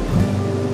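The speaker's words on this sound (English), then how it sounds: "While the waves whispered their secrets." Ocean waves wash onto a beach in the Philippines, a steady, continuous surf rush with a soft low rumble and no clear individual breaks, close and fairly loud, with no voices.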